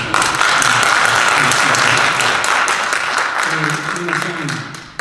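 An audience at a church meeting about an equality law petition claps in a loud, sustained burst that fades slightly near the end, with faint murmuring beneath it.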